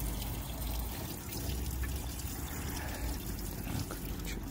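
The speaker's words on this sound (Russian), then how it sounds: "Надо точно заезжать сюда набирать воду." Spring water being collected into containers, a soft continuous trickling and splashing flow heard fairly faint and steady with no talk.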